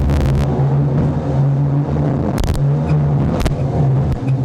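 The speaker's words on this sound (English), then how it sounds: "The big 525 big block Mercruise is doing the job up against the Mercury outboards here" Offshore racing powerboats on the choppy Firth of Thames during a 2005 New Zealand championship round, a Mercruiser 525 big-block inboard running against Mercury outboards, give a loud, steady engine drone with brief rougher surges.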